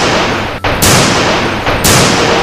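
Two sharp bursts of a plastic Hunter Gun toy gun firing, each a harsh crackling blast roughly a second apart, loud and close with no voices.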